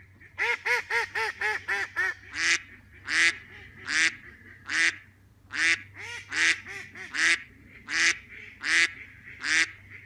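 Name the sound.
duck call imitating mallard quacks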